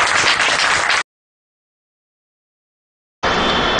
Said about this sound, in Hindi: हर्षोल्लास से आज सभी उनका तालियों के साथ स्वागत करते हैं।